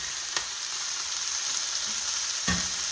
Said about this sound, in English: I'm gonna add these Brussels sprouts.